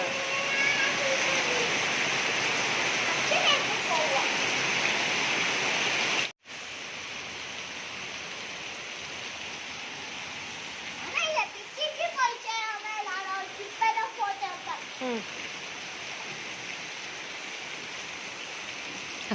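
Steady rain and running water outdoors on a rainy day, a constant broadband hiss with a brief break partway through, while children's voices chatter and call out over it in the latter half.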